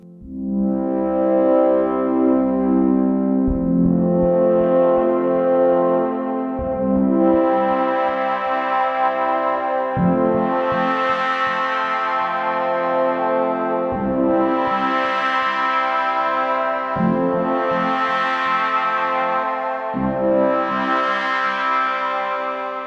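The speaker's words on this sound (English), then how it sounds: "Now some of that beautiful reverb." Swelling IK UNO Synth Pro analog synthesizer chords change every few seconds, washed in lush reverb that blurs each note into the next, played alone and loud throughout.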